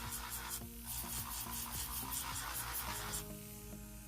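Steady high-pitched electric whirring of a nail drill buffing a nail for a builder gel overlay, continuous and close, with a faint tonal hum underneath and no talking.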